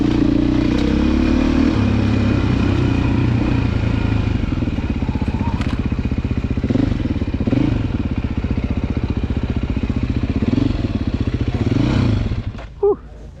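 A Beta 480 dirt bike ridden at a demo day, its engine droning loudly and continuously with rising and falling revs and clattering over terrain, cutting off abruptly near the end.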